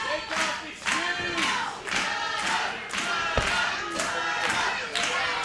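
Wrestling crowd at a Southern Hostility show chanting and cheering in a steady rhythmic pattern of repeated loud bursts, with thumps in the arena mixed in.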